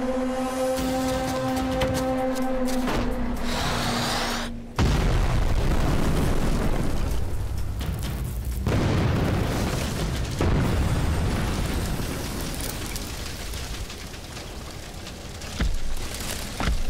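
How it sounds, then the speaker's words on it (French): A toy Playmobil firefighter scene with a loud explosive detonation, a sudden broadband boom followed by sustained rumbling and crackling debris noise that gradually thins out. "Attention, maintenant ça va exploser."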